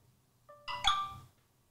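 A phone gives a short electronic ringtone, a brief rising sequence of tones ringing out clearly in an otherwise quiet room.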